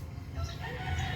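Backyard chickens cluck in a rural yard, a brief, faint burst of fowl calls heard with no talking.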